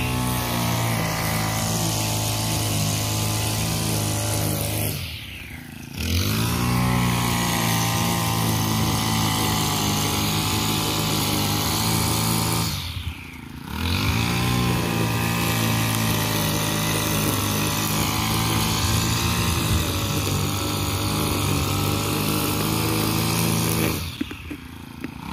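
A grass cutter engine drones loudly and steadily up close, its pitch dropping and briefly cutting out three times before revving back up.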